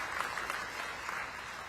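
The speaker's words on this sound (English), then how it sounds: "Y'all give Miss LaShonda another round of applause." Audience applause at an evening of remembrance in Montgomery, a dense steady wash of clapping hands with no break.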